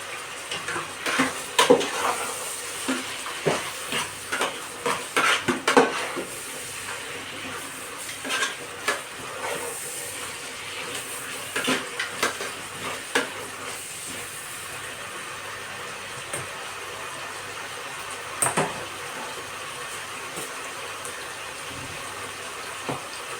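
Chicken biryani masala being stirred in oil in a pot, with a spoon scraping and clanking against the pot in an irregular rhythm over a low, steady sizzle, busier at first and then quieter.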